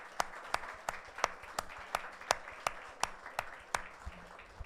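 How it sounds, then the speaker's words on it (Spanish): Church congregation clapping hands in a steady rhythmic beat, about two claps per second, moderately loud in a reverberant worship space, with no voices over it. "Vamos a dar palmas al Señor."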